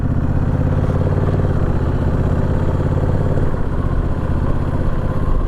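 A Honda CB500F motorcycle idles close by after a commute. Its engine holds a steady, even low burble throughout, with no voices.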